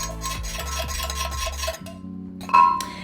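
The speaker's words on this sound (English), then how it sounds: "Give it a mix." Soy sauce, minced garlic, grated ginger and sriracha stirred together in a bowl for a chow mein sauce, giving a steady close scraping and swishing that ends in a light clink near the end.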